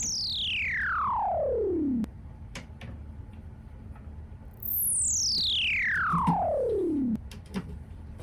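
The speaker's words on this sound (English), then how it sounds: "Right now it's just kind of a filter sweep" Two long descending synth sweeps glide smoothly from high to low, each lasting a couple of seconds, with a quieter gap between them.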